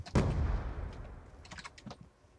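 A frag grenade explodes in Call of Duty Black Ops II multiplayer: one sharp blast that decays into a rumbling tail, followed by scattered light clicks.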